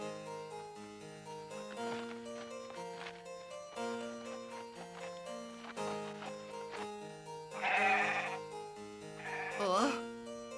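A sheep bleats in an animated Snow White episode, wavering cries rising loudly twice near the end over a layer of soft music.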